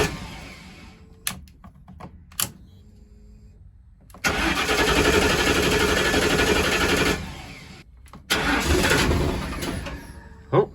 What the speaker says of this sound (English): All right, will it start? It's like almost out of gas.